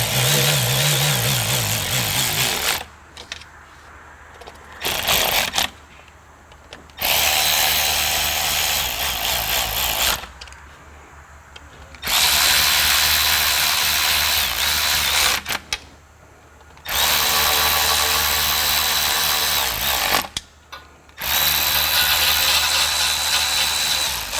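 A power tool runs up the transmission pan bolts on a Ford F150 in repeated loud whirring bursts of several seconds each, separated by short pauses, close up and alone.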